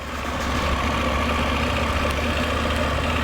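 A KTM 890 Adventure R motorcycle engine idles steadily with a low, continuous hum throughout, close and fairly loud, with no voices.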